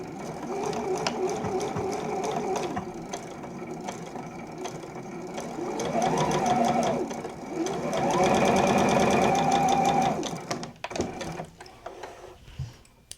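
A sewing machine stitches a French seam in chiffon, running in several sustained bursts with a whirring motor and rapid needle clatter, then stopping with a few handling clicks.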